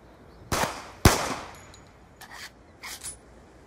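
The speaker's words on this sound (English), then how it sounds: "point it into the air, and fire a single bullet" Two sharp gunshots from a Call of Duty Black Ops 2 custom game ring out a half second apart, loud and close. Fainter metallic clicks and clatters follow.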